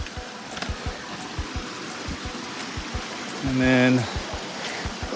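A stream fed by a waterfall beside a hiking trail on the Stevens Trail rushes steadily in the foreground, with regular light ticking that may be footsteps and a short spoken phrase near the end.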